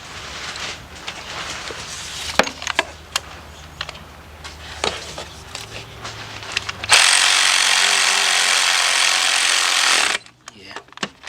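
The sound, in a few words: tightening two 10mm bolts during timing chain replacement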